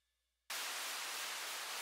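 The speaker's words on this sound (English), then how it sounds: "And then we have white noise, simply white noise." Broadband white noise effect from a melodic house track, bursting in abruptly after a short near-silent gap and then holding steady and loud as a dense hiss to the end.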